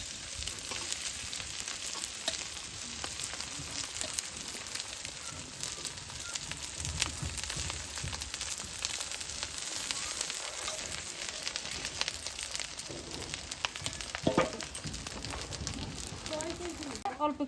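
Rice frying with cauliflower and egg in a pan, a dense continuous crackling sizzle that stays loud and even throughout, with occasional stirring scrapes near the end.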